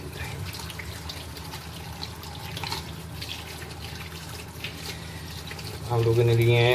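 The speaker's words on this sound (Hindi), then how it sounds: "सबसे पहले हम आलू को और टमाटर को धो देंगे" Six medium potatoes and four tomatoes washed under a running kitchen tap; a voice talks over faint handling noise before the water rushes in loudly near the end.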